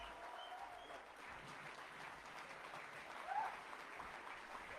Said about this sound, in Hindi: आपका उत्साह और प्यार कितना है, आपकी तालियां ही बता सकती हैं।